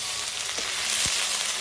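Ginger-garlic paste frying in hot oil, giving a loud, dense, continuous sizzle close up that holds steady for its short length, with no speech over it.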